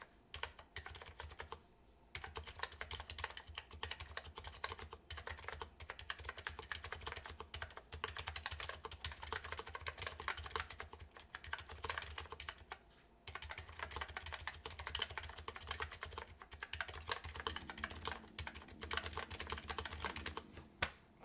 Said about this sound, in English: Can you type a bit more? I missed the typing.